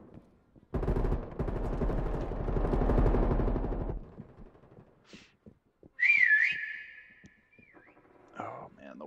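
In the video game Prop Hunt, a sharp, sliding whistle with a wavering pitch sounds after a burst of rapid gunfire-like rattling, with a short rising and falling whistle tone trailing after it.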